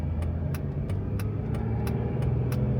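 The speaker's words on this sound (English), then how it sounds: "Sound of that truck right ahead of me." Truck engine running steadily just ahead on the road, a constant low rumble with periodic faint ticking, heard from inside a following vehicle; no talking.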